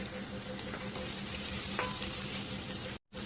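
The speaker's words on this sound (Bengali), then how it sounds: "আমার পেঁয়াজটা একটু ভাজা হয়ে গেছে, একটু নরম নরম হয়েছে" Onion and green chilli fry in a pan with a soft, continuous close sizzle and faint stirring scrapes, a brief dropout near the end, for a traditional Bengali dhenki shak chorchori.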